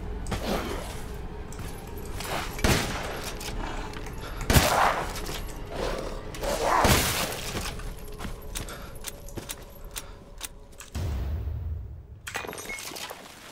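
Repeated sharp gunshots crack over a steady background rumble in the video game Resident Evil Village, some in quick bursts, with scattered impacts and a dull thud near the end.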